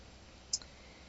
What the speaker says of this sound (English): I just click apply and continue